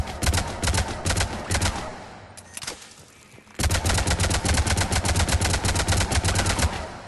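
Avenger assault rifle from Mass Effect 3 firing in long sustained automatic bursts, loud and rapid, with a short pause in the middle before a second steady stream of shots.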